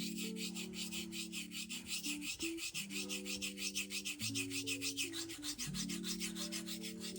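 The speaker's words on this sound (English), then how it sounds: "I'm going to do my old honing routine" A knife blade is honed with half-stroke circular motions on a stone, making a continuous rhythmic scraping and rasping that rises and falls with each stroke. Steady low tones sound underneath, and no one speaks.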